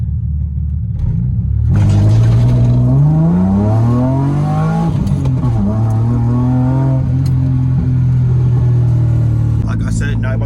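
A BMW E30 fitted with a limited-slip differential pulls hard in first gear, its engine note climbing loud and close for a few seconds before a brief dip and a steady, strained drone.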